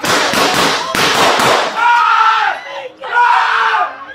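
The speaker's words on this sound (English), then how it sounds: "Shots fired." Gunshots fired during a police bodycam encounter, a rapid burst of several sharp cracks at close range, followed by shouting voices.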